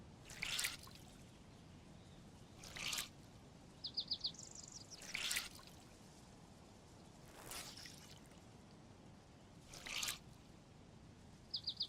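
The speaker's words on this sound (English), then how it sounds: "we might as well wring out our clothes" Water drips from wrung-out clothes in the DayZ video game, falling in soft, faint patters spaced a couple of seconds apart, with small chirping game sounds in between.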